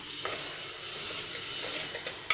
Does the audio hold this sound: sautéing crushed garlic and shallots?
yes